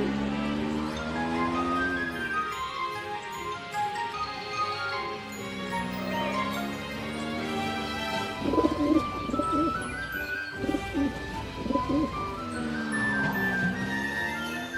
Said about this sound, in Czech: Ale ne, holub, dávej pozor, Katie.